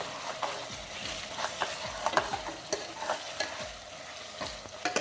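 Spatula scraping and stirring ginger and garlic in a pan with a constant sizzle of frying, rhythmic clinks repeating close by.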